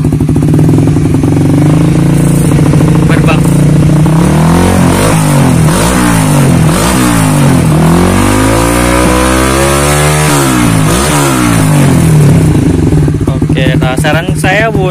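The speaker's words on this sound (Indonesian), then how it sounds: "Itu untuk knalpot CLD yang orinya bro ya." A Honda CB150R motorcycle fitted with the original CLD exhaust is revved repeatedly up and down at close range, loud and steady throughout with rising and falling engine pitch.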